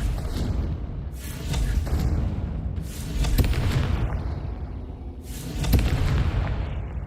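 Repeated deep booming blasts from the Confringo fire spell in Hogwarts Legacy, cast during a fight against spider sacks, loud and close with rumbling tails, in several bursts about every two seconds.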